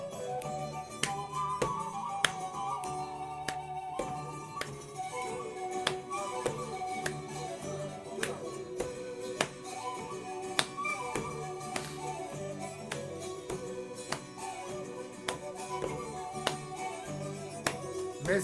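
A repeating body-percussion pattern of a table tap, a hand clap, a finger snap and another clap cycles steadily in an even meter, crisp and close with no other sound over it.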